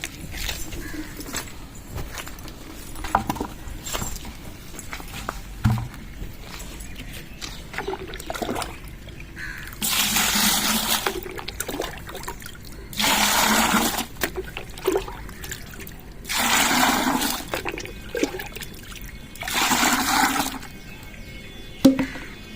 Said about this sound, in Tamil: இதை வேஸ்டேஜை செடி வேரில் கொட்டிடுவோம்